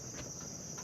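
Cicadas buzz outdoors among trees as a steady, high, continuous drone over faint low background noise, fairly quiet and with no voices.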